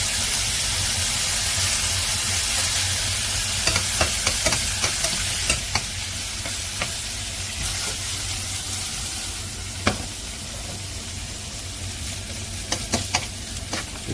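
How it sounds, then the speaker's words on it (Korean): Beef loin sizzling in butter in a hot pan, a steady loud frying hiss throughout with occasional crackling pops and stirring noises, no voices. "등심이나 이런 거를 버터에 구우면 상당히 맛있습니다"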